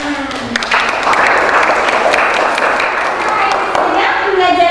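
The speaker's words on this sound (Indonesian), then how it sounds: "Tepuk tangan." A classroom of students applauding at the end of an Indonesian language lesson, steady loud clapping that swells in after a brief moment and continues for several seconds, with faint voices mixed in.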